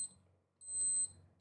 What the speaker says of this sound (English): That's my timer to finish